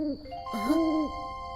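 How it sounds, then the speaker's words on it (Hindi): Owl hooting near a tree full of owl nests: a couple of clear, pitch-bending hoots, loud and close, ringing alone over a faint steady high tone. "ये एक उल्लू की आवाज है।"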